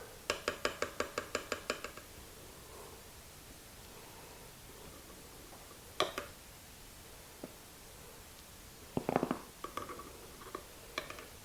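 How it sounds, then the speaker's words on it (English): A whisk mixes flour and other dry ingredients in a bowl, starting with a quick, even run of about eight clicks and then a few scattered knocks and taps close by, with no voices. "We're just going to go ahead and whisk together some dry ingredients that we can add."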